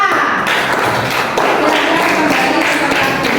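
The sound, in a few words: class applause for group A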